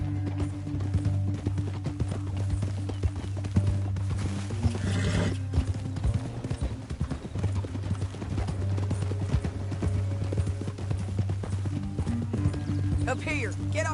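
Rhythmic clip-clop of horse hooves in Red Dead Redemption 2 over a steady low rumble, with a horse's whinny partway through and game-style ambience around it.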